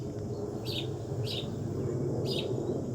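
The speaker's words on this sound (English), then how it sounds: "I love the birds this morning" Morning birdsong outdoors during a yoga session: three short, bright chirps spaced about a second apart over a steady low background hum, moderately distant.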